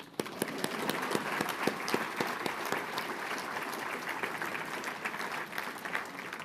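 An audience at a banquet dinner gives steady, loud applause with many overlapping claps. It holds its level for the whole stretch.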